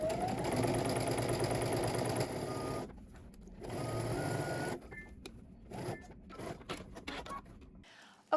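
A home sewing machine runs stitching around a garment casing, a sustained steady whir near the mic with short pauses and restarts, then sparse clicks and handling noise toward the end.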